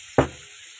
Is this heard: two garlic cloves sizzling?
yes